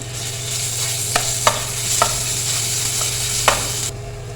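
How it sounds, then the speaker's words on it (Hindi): Ginger and garlic frying in a little hot oil for a dal tadka, a steady close sizzle with a few sharp spoon stirs and taps against the pan, then an abrupt stop. "अब हम दाल का बघार तैयार कर लेते हैं, यानी कि तड़का"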